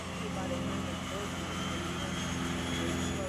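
Propeller airplane engine carrying skydivers for a jump into Falcon Stadium at an Air Force football game, a steady loud drone held throughout with talk over it.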